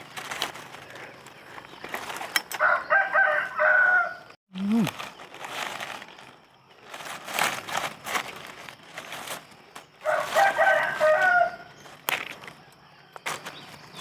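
A rooster crows twice at a rural farm on a sunny day, fairly loud and drawn out, over steady background rustling and footsteps, with a short break in between.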